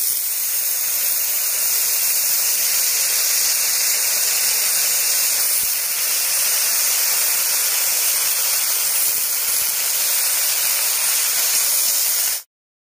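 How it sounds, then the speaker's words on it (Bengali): Fresh garden spinach hits a hot pan along with boiled taro and bay leaf, producing a loud, steady steaming hiss that holds evenly for about twelve seconds before cutting off abruptly, with no talk. "এবার পালং শাকগুলো দিয়ে দিচ্ছি।"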